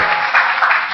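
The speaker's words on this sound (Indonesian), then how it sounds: "Beri tepuk tangan dulu." Church congregation claps for two young sprinters from Papua, a short dense burst of hands that swells slightly and holds, fairly loud and close with no talk over it.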